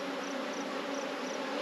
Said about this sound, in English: there's tons of bees in here